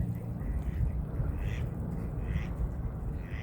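Ducks quacking at a pond while eating scattered feed, a steady cluster of calls close by over a continuous outdoor rumble, with a few brighter quacks standing out.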